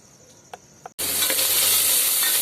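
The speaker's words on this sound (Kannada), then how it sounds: "ಒಂದು ಈರುಳ್ಳಿ ಒಗ್ಗರಣೆ ಹಾಕ್ಕೊಂಡು ಎರಡು ಸ್ಪೂನ್ ಎಣ್ಣೆ ಹಾಕ್ಕೊಂಡೆ" Chopped onion dropped into about two spoons of hot oil for tempering: after a quiet second with a couple of faint clicks, a loud, sudden sizzle bursts in and keeps roaring steadily.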